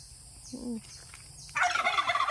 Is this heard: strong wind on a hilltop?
no